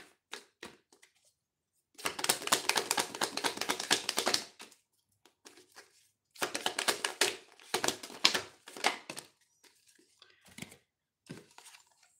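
Thick playing cards being shuffled by hand, dense riffling and slapping bursts in several separate runs with short pauses between, close and fairly crisp, with no talking heard.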